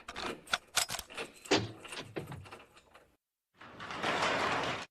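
A series of door locks being fastened in a cartoon house, rapid clacking and sliding metal clicks for about three seconds, then a brief pause and a steady rattling scrape, close and fairly loud with no talk.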